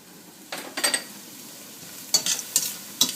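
Ginger sautéing in a pan, a quiet low sizzle broken by several scraping, clinking stirs from a utensil, with no voices.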